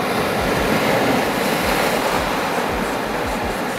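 Ocean waves break and wash onto a Tasmanian beach, a loud, continuous surf roar with rolling low thumps as each wave hits, wind buffeting the microphone.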